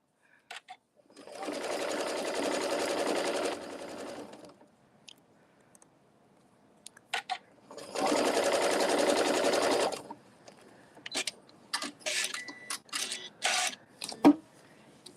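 A sewing machine stitches a table runner in two steady runs of a few seconds each, separated by a pause, with fabric handling clicks and rustles afterward.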